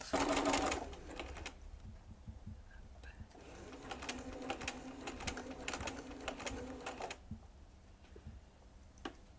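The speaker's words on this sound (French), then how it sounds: "Et je vais coudre jusqu'à 10 cm." A sewing machine stitching a fabric placemat, running in short bursts of rapid needle ticking with a pause in between, fairly quiet and close, with no talk.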